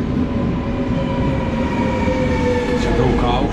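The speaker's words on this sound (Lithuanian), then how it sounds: "Mūsų traukinys atvažiuoja." A double-decker passenger train rolls into a station in England with a continuous loud rumble and rising tonal whine from the wheels and motors, heard close and steady throughout.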